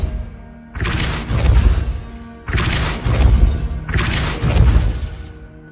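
Three heavy magical blasts of the Depulso spell in Hogwarts Legacy, each a loud booming burst with crashing debris, coming in an even rhythm, one about every one and a half seconds.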